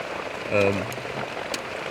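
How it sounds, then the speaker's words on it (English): Heavy monsoon rain pouring in a Malaysian jungle, a dense steady hiss of drops on leaves and surfaces, with a brief voiced sound rising over it partway through. "you don't see rain like this in the UK"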